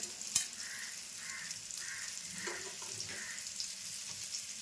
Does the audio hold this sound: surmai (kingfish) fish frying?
yes